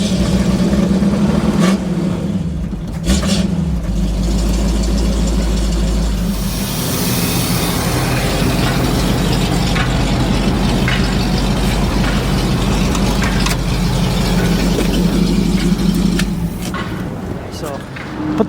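A 1966 Ford Ranchero engine cranks and catches on a cold start, then settles into a steady, rough idle that runs close and loud for the rest of the stretch.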